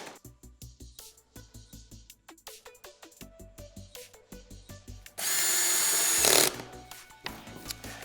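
A run of rapid, regular ratcheting clicks, then a loud, continuous power drill burst of about a second as screws are driven into the frame of a VertDesk v3 L-shaped electric sit-stand desk, with clicking resuming afterward.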